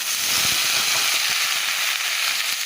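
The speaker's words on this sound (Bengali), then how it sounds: "মূলোতে আর আলু দিয়ে ভাজবো।" Radish and potato fry in a pan with black cumin and dried red chilli, giving a steady, loud, close sizzle with faint crackles and no talk.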